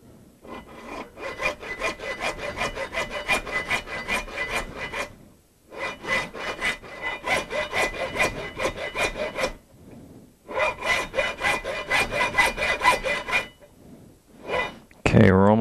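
Wood is hand sawn in long rhythmic rasping strokes, close and loud, in several bursts separated by brief pauses, ending with a clatter.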